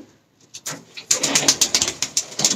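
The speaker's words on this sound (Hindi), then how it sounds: "डाकू है वो मियां नजीर साहब के कबूतर है" Pigeons in an indoor loft give a string of short, repeated calls that start faint and sparse, then grow louder and closer in quick succession.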